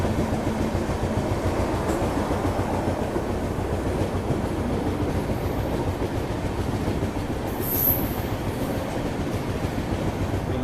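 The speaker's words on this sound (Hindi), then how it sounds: "यहाँ अभी अपनी ट्रेन खड़गपुर जंक्शन को स्किप कर रही है।" The Mumbai–Howrah Duronto Express runs through Kharagpur Junction with a loud, steady rumble and a continuous rhythmic clatter of wheels over rail joints, no voices.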